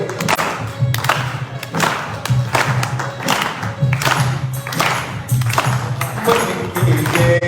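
Rhythmic clapping from a gathered audience at a religious assembly, steady repeated claps in a regular beat alongside singing or chanting voices throughout.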